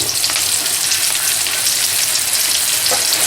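Ginger garlic paste sizzles steadily in a hot pan for fried rice, a loud, continuous frying hiss close by with faint stirring and no voices.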